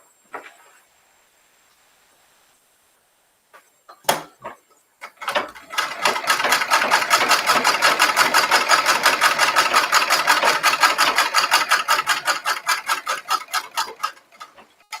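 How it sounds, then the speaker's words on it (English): After a few sparse clicks and taps, a sewing machine starts up and stitches across fabric lines, a fast even mechanical chatter that holds steady for several seconds, close and loud with no talking. "let's sew across the lines"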